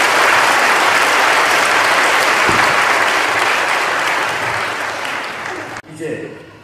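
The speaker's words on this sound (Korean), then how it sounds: "세 분 여러분에게 인사하실 때 다시 한번 뜨거운 박수로 축하해 주시면 감사하겠습니다." A church congregation in Korea applauds warmly at an ordination service for elders, deacons and deaconesses, loud sustained clapping that thins and fades near the end before a brief spoken voice.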